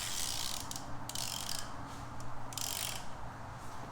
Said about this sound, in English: I'm going to use this 1/2-inch drive ratchet